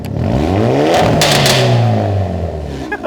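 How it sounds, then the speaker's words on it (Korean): A Hyundai Avante N in N mode with exhaust set to Sport Plus revs loudly up and back down, a close, rasping exhaust roar that climbs then settles, with a couple of sharp pops near the end. "N 모드를 놓고 여기 지금 배기 사운드가 노말로 설정이 돼 있거든요. 이거를 스포츠 플러스로 놓도록 하겠습니다"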